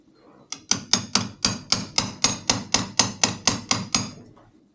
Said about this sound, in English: we're peeling back the lock washer so that we can get at the nut